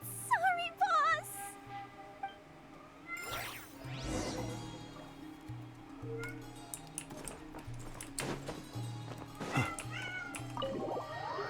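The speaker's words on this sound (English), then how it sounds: "I hear a cat. You guys can hear him?" A cat meows inside the Genshin Impact game, several short high meows at the start and again later, amid soft game music and scattered clicks and effects.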